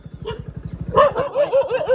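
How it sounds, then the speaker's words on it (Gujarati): A dog barks in a quick run of four or five close, loud yaps at visitors arriving at a village home, over a steady low thumping rhythm. "પહેલો આવકારો કૂતરાનો"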